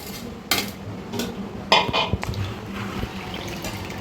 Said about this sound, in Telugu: ఇలా నానబెట్టుకున్న వాటిని మనం ఒక మిక్సీ జార్లో తీసుకుందాము